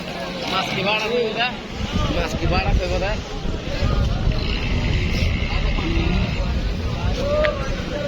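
A fishing trawler at the Cox's Bazar fishery ghat rumbles low beneath a busy mix of many nearby voices and shouting dockside activity.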